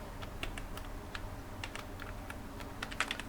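Typing Python code on a computer keyboard, scattered clicky keystrokes at an uneven pace, close and moderately loud over a low room hum, with no talking.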